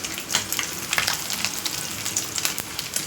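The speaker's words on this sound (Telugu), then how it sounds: "చూసారు కదా, వేగుతున్నాయి." Dried anchovies fry in a pan for a dosakaya curry, hissing and sizzling close up with a steady crackle and irregular sharp pops, and no voices.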